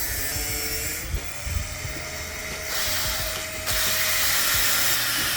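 A power drill with a brush attachment whirs continuously, scrubbing a car's front brake parts, the motor pitch shifting and growing louder toward the end.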